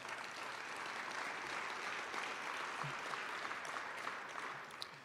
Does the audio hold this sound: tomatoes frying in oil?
no